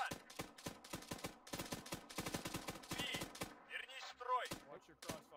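Rapid bursts of automatic gunfire in the video game Arma III during a co-op match, dense rattling volleys for several seconds, then scattered shots and thuds as the shooting tapers off; no voices.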